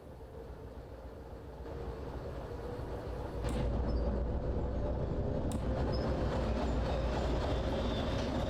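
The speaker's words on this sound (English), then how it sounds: "the train is actually rolling in on its own." A train rolls along the rails in the railway simulation game Derail Valley, giving a steady, loud rumble that swells partway through, with faint clicks and a squeal-like tone over it, no voices.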